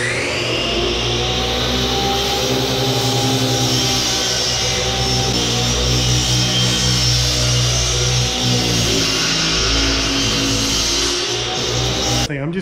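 Continuous loud power saw whine cutting wood boards for bunk beds, a steady close-up drone held for the whole stretch with only slight shifts in pitch.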